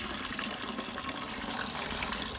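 Water from a rain barrel rushes out of a garden hose under good pressure, a steady, close, broad gushing flow with no pauses and no voices.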